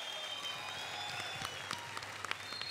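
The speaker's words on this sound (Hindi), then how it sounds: "क्या बात है, जोरदार तालियां हो जाए।" Dense audience applause rises from a TV talent show stage audience, a steady wash of many hands clapping at moderate distance, continuous throughout with no talk over it.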